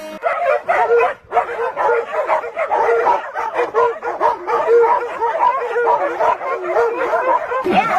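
Several dogs bark and yip in a dense, overlapping chorus, loud and close, with whimpering and howling mixed in and barely a pause across the stretch.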